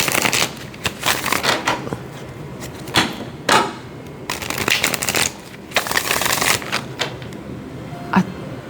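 Tarot cards are gathered up and shuffled, giving a series of quick riffling, slapping bursts with brief pauses between them, close by and with no talking.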